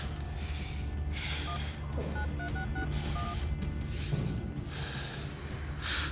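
A short run of telephone keypad tones beeps over a low background hum, with breathy rustles around them.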